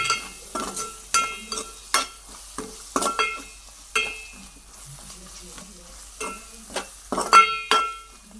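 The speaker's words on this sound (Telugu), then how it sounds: "జీలకర్ర పౌడర్ మసాలా పౌడర్ కూడా వేసుకోండి బాగా వేగే వరకు కొంచెం మిక్సింగ్ చేసుకుంటే" Cumin and masala powder fry in a pan while a spoon stirs and scrapes, giving repeated sharp metallic clinks and scrapes over a soft, quiet sizzle close by.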